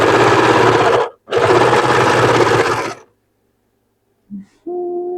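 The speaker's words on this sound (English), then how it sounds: "I'm just going to double stitch it" Sewing machine double stitching a seam while remaking a dress, two close, loud bursts of rapid whirring separated by a short pause, then quiet and a brief mechanical hum at the end.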